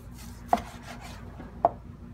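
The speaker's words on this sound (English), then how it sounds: "And then we're gonna slice about 1/2 inch thick slices." A knife cutting slices of cooked pork loin on a board, two distinct soft thuds about a second apart with faint scraping between, close and quiet.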